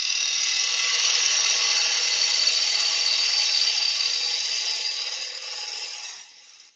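A wood lathe hollowing a turned piece with a push cut makes a steady, bright hissing whine of tool on spinning wood that holds for several seconds and then tapers off as the cut ends.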